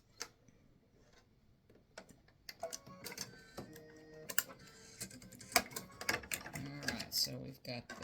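An embroidery machine stitches freestanding-lace bat earrings in fluorescent thread, giving rapid irregular ticking and clattering bursts that grow busier and louder after a quiet start, with brief talk mixed in.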